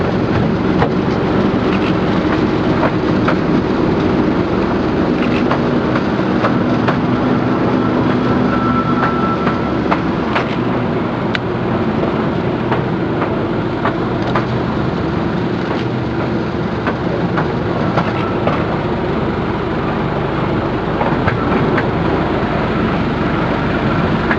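A small train rumbles steadily across a steel viaduct on the Driving Creek Railway, Coromandel, with a continuous metallic roar and faint rhythmic clatter, loud and close throughout, with no voices.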